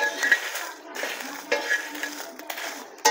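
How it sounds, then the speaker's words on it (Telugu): Dried red chillies dry-roast in a pan for spice powder, giving soft rustling stirs and occasional light metallic scrapes and clinks of a spoon against the pan, close and steady with no talking. "ఇట్లాగ మొత్తం అన్ని కాయలు ఇలాగ వేపుకోవాలి."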